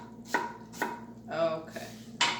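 A knife cutting onion into quarter-inch strips on a board for escabeche de chile, with four or five crisp close chops at an uneven pace.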